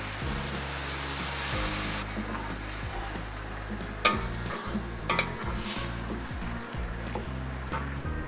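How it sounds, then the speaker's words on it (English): Tomatoes drop into a pan of softened zucchini for a vegetable lasagna, setting off a loud, steady sizzle with stirring scrapes and a few sharp clatters, no voices. "We're going to add in the tomatoes."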